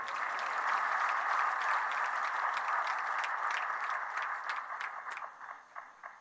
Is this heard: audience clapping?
yes